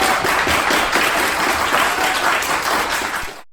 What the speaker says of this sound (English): Let's give Navari another round of applause